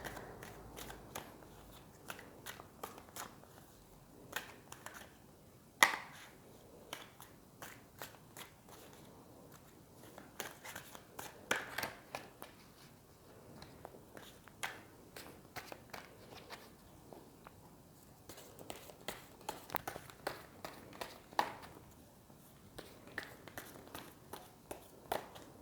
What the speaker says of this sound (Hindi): कार्ड्स की शफलिंग करना मेरे लिए बहुत ज़रूरी है